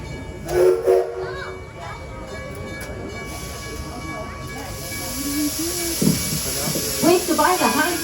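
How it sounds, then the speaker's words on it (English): The Edison train at Greenfield Village sets off with a long steam hiss and rumbling railcars, while people talk over the ride nearby. "So sit back and enjoy your train ride."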